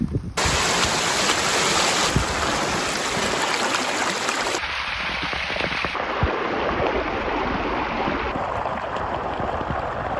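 Water pours in a torrent from an overflowing pond on an off-grid homestead, making a loud, constant rushing roar close by that keeps going throughout.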